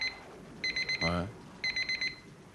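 Alarm clock ringing at 3 o'clock, two short bursts of rapid high electronic beeps, fairly faint, with a brief voice sound between the bursts.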